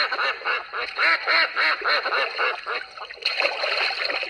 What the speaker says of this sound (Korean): 오리가 꽥꽥, 꽥꽥 헤엄치고 있어요.